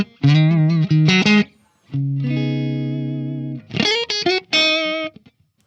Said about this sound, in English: So here we've got a nice clean tone. It is not ultra clean. There's a tad bit of breakup here.